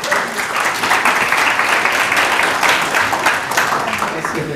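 Dense, sustained applause from an audience at a school family gathering, welcoming an MC on stage; steady loud clapping fills the whole stretch without letting up.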